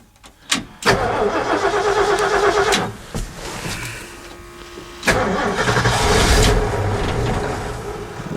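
A 1977 Ford F350 Holmes wrecker with a 440 engine, needing timing and carburetor adjustment, cranks and catches briefly, then dies. After a pause it cranks again and starts, running loud and rough close by, with no talking.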